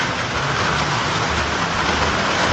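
Heavy rain drums on a tin roof during a hurricane-driven storm in Michigan, a loud dense unbroken roar with no gaps and no voices.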